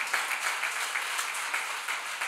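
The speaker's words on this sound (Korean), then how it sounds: "우리 주님께 영광의 박수 올려드립시다." Church congregation applauding during a Korean sermon, a dense steady wash of many hands clapping at moderate distance, fairly quiet and continuous with no voices over it.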